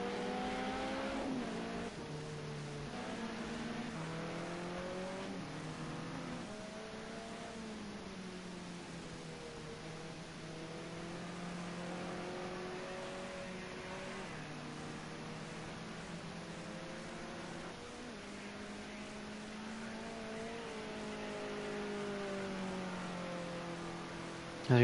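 Modern TCC race cars lap the Algarve circuit, engines droning and shifting pitch as they accelerate and change gear, heard at moderate distance throughout with no speech.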